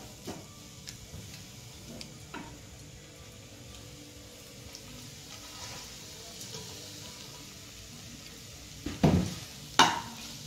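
Fried soybean chunks and scrambled egg being added and stirred in a pan with a spatula for leftover-rice fried rice, a soft steady sizzle with light scraping, then two sharp clatters of the utensil near the end.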